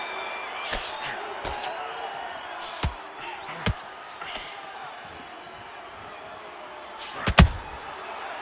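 Boxers in the Undisputed boxing video game trade punches, with a handful of sharp, scattered impact thuds over a constant crowd murmur and a loud cluster of blows near the end.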